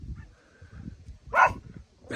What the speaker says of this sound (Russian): Это на том берегу собачка лает.